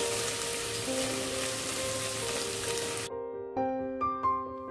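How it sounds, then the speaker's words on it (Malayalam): Chopped garlic sautéing in hot oil in a pan, giving a steady close sizzle for about three seconds that then cuts off, leaving a few faint tonal clinks. "വെളുത്തുള്ളി ഒന്ന് നന്നായിട്ടൊന്ന് വതക്കിയെടുക്കണം"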